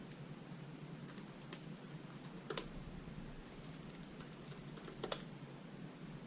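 Someone types a password on a MacBook keyboard: sparse, soft keystroke clicks spread over six seconds, faint above a steady background hiss.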